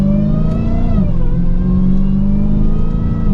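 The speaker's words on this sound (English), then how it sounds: "I can hear some of the cracks and pops in the exhaust, which is nice." A Dodge Challenger SRT Hellcat Redeye engine revs loudly up close, its deep exhaust note climbing and settling in a steady, heavy drone with a brief dip around the one-second mark.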